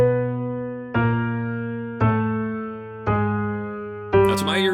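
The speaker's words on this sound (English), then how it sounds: "Here's the sound of a chromatically descending bass line" Four sustained bass notes, each a half step lower than the last, struck about once a second on a keyboard, each decaying before the next, ending on a brighter chord.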